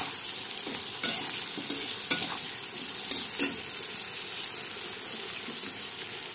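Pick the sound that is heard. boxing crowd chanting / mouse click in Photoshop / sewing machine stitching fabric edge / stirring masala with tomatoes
stirring masala with tomatoes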